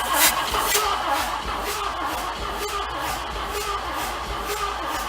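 A Chrysler Marine 360 engine cranking over during a compression test, with a steady rapid chugging from the starter that holds even throughout and sounds fairly close, with no talk.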